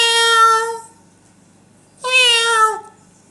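A person imitates a cat meowing with two drawn-out, nasal meows separated by a short pause, each loud and close with no other sound around them.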